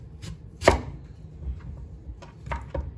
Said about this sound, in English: Now I'm just gonna chop up my sweet potato.